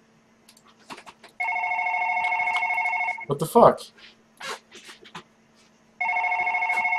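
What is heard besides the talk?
telephone ringing in One Late Night horror video game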